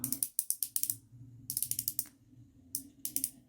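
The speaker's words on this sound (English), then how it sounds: "It says to screw the gel until it goes through." A teeth whitening gel pen is twisted to push gel toward its brush tip. Close, rapid ratcheting clicks arrive in quick bursts of several ticks, separated by short pauses, with no talking.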